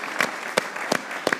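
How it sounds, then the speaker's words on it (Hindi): A few crisp hand claps in a cricket talk show studio, four distinct slaps spaced roughly evenly, close and isolated, like one or two people clapping rather than a full crowd. "फखर जमान के लिए भी तालियां बजाना चाहता हूं,"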